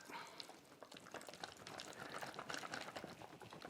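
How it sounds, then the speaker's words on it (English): A whisk beats Thousand Island dressing made with white wine vinegar and dry mustard in a bowl, giving quick, rapid wet clicking and sloshing strokes, close and faint, with no talk. "I always like to use a whisk to mix"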